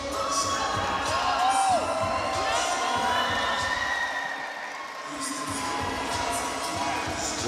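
A dense, loud crowd roars and cheers at a kickboxing fight night, with a steady wash of shouting and whoops.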